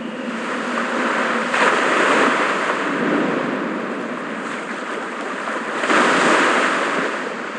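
Ocean waves in the video game Dragon Raja, a broad washing surf that swells and recedes in slow surges, steady and moderately loud, with no voices.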